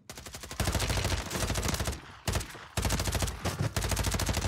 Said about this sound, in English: Ooh, I'm getting shot at.